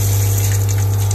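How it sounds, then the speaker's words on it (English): A water pump runs with a steady, loud hum and a strong low drone, plus a faint rushing of water on top, continuous and close with no talking. "That's with my water pump running."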